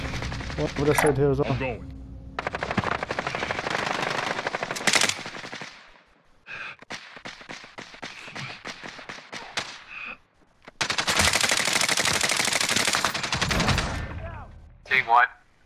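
Bursts of automatic gunfire from Call of Duty: Modern Warfare gameplay, with long loud rapid volleys separated by pauses and sharp single shots, as a player speaks briefly over the shooting.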